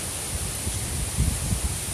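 Wind gusting outdoors, a broad steady rush with low buffeting thumps against the microphone.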